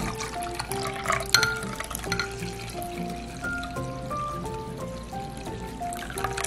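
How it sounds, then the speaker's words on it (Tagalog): Water pours steadily into a pot holding dissolved milk in a home kitchen, a close, continuous trickling splash with gurgling tones that shift as the level rises. "Maglalagay tayo ng tubig na paabutin natin hanggang 500"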